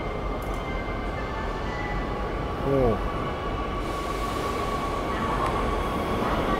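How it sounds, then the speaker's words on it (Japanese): A limited express train rumbles steadily close by as it pulls into a station in Japan, with a constant hum of motors and rails; a voice briefly exclaims partway through. "次の特急もやってきますけども"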